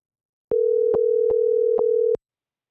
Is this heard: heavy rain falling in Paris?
no